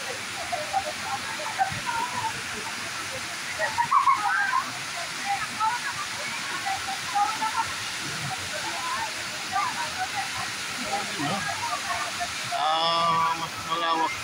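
Dream Falls, a waterfall in Luisiana, Laguna, roars as a constant, close wash of rushing water, with people talking over it throughout.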